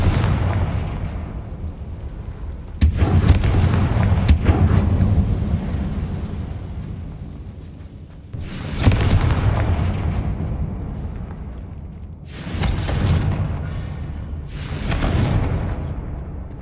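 Confringo blasting spells from the video game Hogwarts Legacy explode again and again, with four or five loud, broadband booms that each rumble and fade over a couple of seconds, set against a steady low ambient drone and with no talk.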